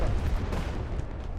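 A GBU guided bomb detonates in the Arma 3 video game, a heavy, rumbling blast that rolls on as a thick, sustained boom with a deep low end, loud and sounding fairly distant, with no voices over it.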